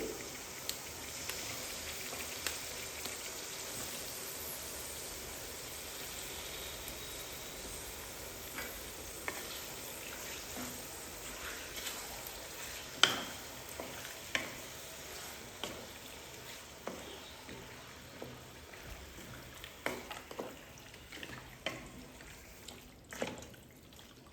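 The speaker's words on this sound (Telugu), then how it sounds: "చికెన్ వేసేసుకొని కలుపుకోవాలండి" Chicken pieces fry and get stirred in a pan, a soft continuous sizzle with repeated close clinks and scrapes of the utensil becoming busier toward the end, no talking.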